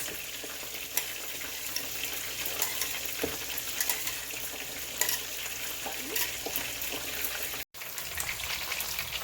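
Beef spring rolls deep fry in hot oil with a steady, dense sizzle and fine bubbling crackle, close and continuous with a brief dropout near the end.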